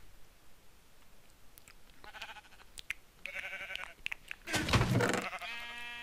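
Sheep bleat in a Minecraft-style video game, a few short calls close by that build to a louder, longer bleat near the end, over faint background noise.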